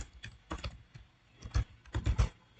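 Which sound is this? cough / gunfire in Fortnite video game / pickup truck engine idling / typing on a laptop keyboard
typing on a laptop keyboard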